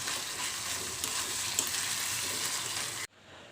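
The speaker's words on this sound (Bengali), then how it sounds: "এখন আমি শুটকি দিয়ে দিলাম আর এখন ভাজা ভাজা করবো" Dried fish frying with onion and garlic in a pan, a steady close sizzle throughout with occasional stirring, cutting off abruptly near the end.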